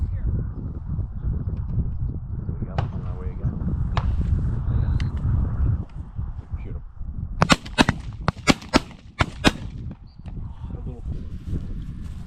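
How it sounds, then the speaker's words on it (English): Shotgun blasts ring out at a pheasant tower shoot, including a Benelli 20 gauge and a 12 gauge, as a burst of several sharp reports in quick succession in the second half, following steady outdoor talk and background noise. "I'm shooting a Benelli 20 gauge, and she's doing the trick"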